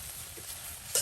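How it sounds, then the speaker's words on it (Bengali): Drumstick leaves frying in oil in a pan give a brief, faint hiss and sizzle, closing with a small louder crackle. "বারবার তেল দিয়ে কিন্তু এই শাকগুলো একদম ভাজি ভাজি করা হচ্ছে।"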